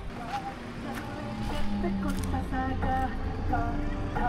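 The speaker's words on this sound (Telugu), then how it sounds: "హయ్యర్ RPMsలో కూడా ఇంజన్ నాయిస్ ఎక్కువగా ఉంది." Engine drone inside the cabin of a Maruti Suzuki Victoris LXi base model, a steady low rumble that swells and grows louder as revs rise, with some faint tonal whine over it.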